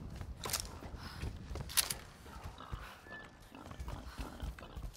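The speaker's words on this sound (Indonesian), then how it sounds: "Banyak banget babinya." Pigs grunt and snuffle in the Tomb Raider game, several irregular low grunts at moderate distance, mixed with occasional creaks and soft footstep-like shuffles, no talking.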